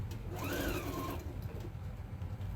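A sewing machine stitches a narrow seam on fabric for a sewing mat, a brief steady whirring hum that rises in pitch and then settles, close up, over a low background rumble.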